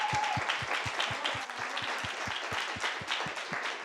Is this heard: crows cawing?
no